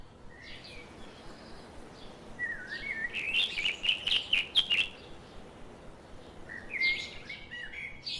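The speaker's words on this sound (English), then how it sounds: "These social birds live in flocks and build cozy cup-shaped nests." Bright chirps and tweets from a flock of colorful social birds with teal, red-orange, green and indigo feathers, a burst of rapid calls in the middle with scattered chirps before and after, fairly close over quiet background.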